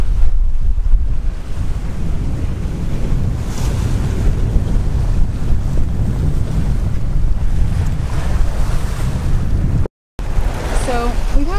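A sailboat under way on the open ocean near Turks and Caicos, with constant loud wind buffeting the microphone and the rush of waves and water against the hull throughout, plus a brief dropout near the end.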